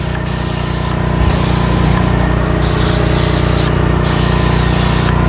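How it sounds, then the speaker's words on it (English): A steady, loud hiss of an extractor spraying cleaning solution onto Toyota cloth car seats runs continuously, with brief breaks in the hiss, over a constant machine hum. "So now I will just spray the solution."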